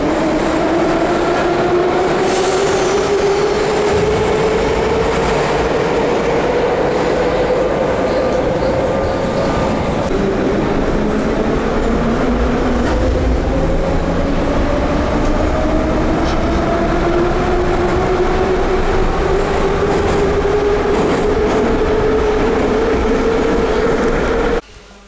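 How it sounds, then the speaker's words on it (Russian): A Moscow metro train runs steadily with a loud rumble and a rising, whining motor tone that climbs repeatedly as it accelerates, filling the whole stretch. "Метро."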